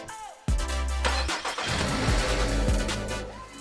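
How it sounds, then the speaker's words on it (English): A 2019-2025 Nissan Altima 2.5L engine with a performance intake cranks briefly and catches at about half a second, then settles into a loud, throaty idle with a couple of quick blips. "Okay, so we're gonna do a startup right now so you can hear the intake system."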